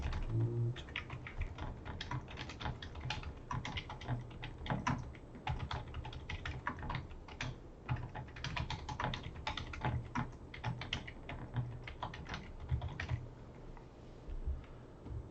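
Someone typing on a computer keyboard, quick irregular clicks and taps close to the microphone that run steadily throughout with short pauses between bursts and no talking.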